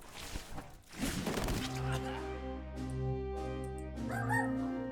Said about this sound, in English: The dog has seen something out the window and is unhappy about it.